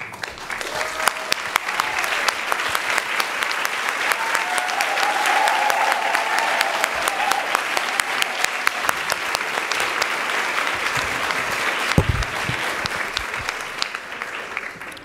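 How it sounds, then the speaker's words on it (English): A gala audience applauds previous 21 Leaders for the 21st Century winners as they stand, with a long, even roar of many hands clapping that holds steady throughout, loud and full, with no voices over it. "please stand and receive your applause."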